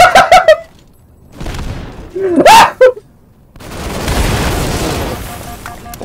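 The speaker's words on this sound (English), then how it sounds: "throws a grenade" A grenade blast in Halo 2 Anniversary multiplayer on the Stonetown map: sharp gunfire bursts open, then a booming explosion with a rumbling tail fades into a long, noisy wash of debris and distant firing.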